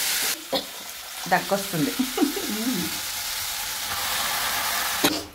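Tomatoes fry in a pan with a constant close sizzle, broken by a few scraping stirs. A voice speaks briefly partway through.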